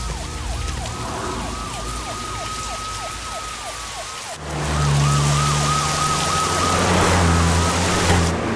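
A police car siren wails in rapid repeating sweeps, then shifts to a longer rising and falling tone, heard over heavy rain and a rumbling engine.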